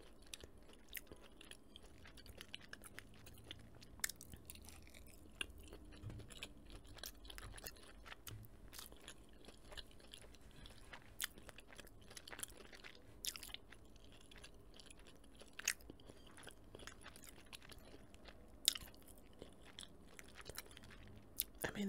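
Buffalo chicken nuggets eaten close to the microphone: soft, wet chewing with occasional crunchy bites repeating steadily throughout, quiet and intimate, with no talking.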